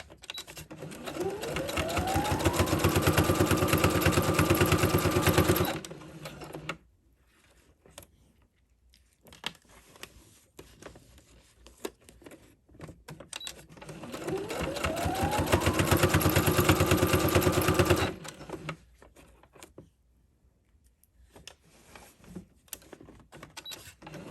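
A sewing machine stitching a zipper into fabric runs in two bursts of about six seconds each. Each burst revs up to a steady, close, loud motor whir, and near-quiet pauses fall between them.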